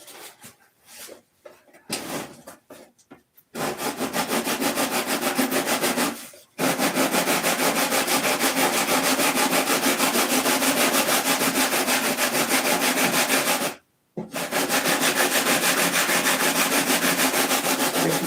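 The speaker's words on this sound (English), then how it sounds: "And I'll hold it and you sand it." A long wooden bar being sanded by hand, heard as loud, close, continuous rubbing strokes that run for several seconds, pause briefly and then resume.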